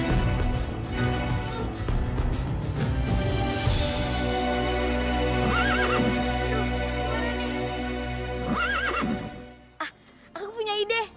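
A horse whinnies several times amid clopping hooves and busy animated-cartoon sound, loud and close, while voices talk over much of it.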